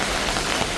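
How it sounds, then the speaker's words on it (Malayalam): Heavy rain pours steadily outside a home, a dense, even hiss of drops on surfaces with no pauses and no voices. "മഴ തീരാതെ തോരാതെ പെയ്തുകൊണ്ടിരിക്കുകയാണ്."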